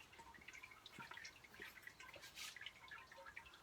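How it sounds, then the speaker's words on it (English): Wort trickles slowly during a sparge while brewing a Hefeweizen beer, faint scattered drips and small splashes falling irregularly in a quiet setting. "it's a slow sparge, but it is going down. I can hear it trickling."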